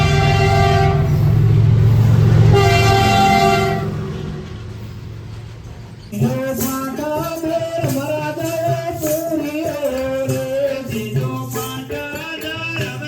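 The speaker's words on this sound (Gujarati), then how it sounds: "હમણાં ટ્રેન જવાની તૈયારી છે" At a railway level crossing, a passing train blasts a long, loud horn that fades out, then people sing and talk close by.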